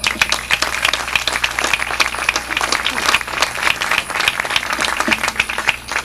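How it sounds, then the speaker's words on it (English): An audience at the opening of the Salem, Massachusetts visitor center applauds the mayor, a dense, sustained burst of many hands clapping nearby, steady for several seconds with faint voices underneath. "I think we should give him a big round of applause."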